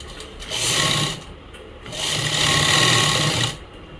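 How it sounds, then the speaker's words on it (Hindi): Sewing machine stitching a thick seam on palazzo trousers, running in two loud bursts of rapid whirring with a brief pause between them, no speech over the motor. "वे मशीन ने का मोटा बखिया कर लेंगे"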